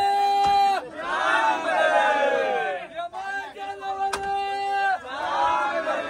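A dense crowd of pilgrims at the Jyotiba temple yatra, with loud, sustained shouting and chanting voices that rise and fall in long waves, packed close around the listener.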